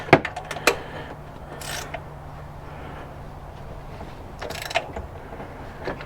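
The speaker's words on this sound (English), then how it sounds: "I just grabbed my 3/8 ratchet out of my DeWalt set" A 3/8-inch DeWalt ratchet tightening bolts on a Toyota, giving a few sharp clicking bursts at the start and again near the end, separated by quieter mechanical rustling.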